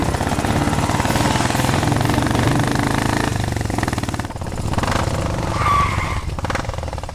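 A motorbike starts and races away in a hurry during a chase scene, its engine roaring loud and close with shifting pitch as it pulls off, over background music.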